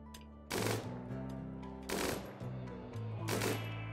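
Machine gun fire from the video game Rimworld erupts in three loud sustained bursts of rapid shots, separated by shorter gaps of quieter background rumble.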